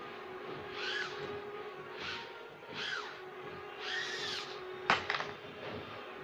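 HC 625 sports drone taking off, its propellers buzzing in repeated rising and falling whines, close and fairly loud, followed by a couple of sharp knocks near the end.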